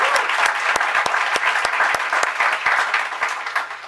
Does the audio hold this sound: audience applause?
yes